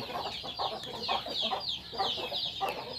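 Chickens in a colony free-range coop, a rooster with hens, clucking repeatedly in short rhythmic bursts, moderately close and steady over continuous coop background noise.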